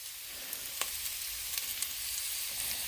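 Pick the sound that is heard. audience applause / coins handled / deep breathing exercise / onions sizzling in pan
onions sizzling in pan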